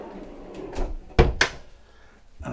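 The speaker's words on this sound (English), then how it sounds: "You've also got things like big drawers" Big drawers under a bed in the owner's hull of a Fountaine Pajot Elba 45 catamaran, giving a few sharp wooden knocks and slides close by, with a soft rustle before and another thud at the end.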